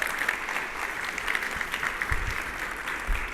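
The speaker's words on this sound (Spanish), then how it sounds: "damos un fuerte aplauso a Kristen." Audience applause at a church service, a steady wash of clapping from a congregation filling the room, moderately loud and continuous with a few low thumps.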